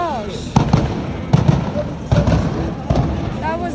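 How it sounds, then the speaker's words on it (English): Several loud sharp gunshots from a large gun go off in Ethiopia in an irregular sequence, about five shots spaced roughly a second apart, echoing over people talking. "It might sound like fireworks at first, but it's not. It's actually gunshots"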